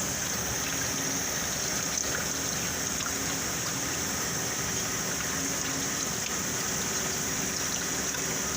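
A continuous, even rush of fluid pours through a flush hose on a 2016–2019 Toyota Corolla CVT transmission, a close, unbroken liquid hiss with no voices over it.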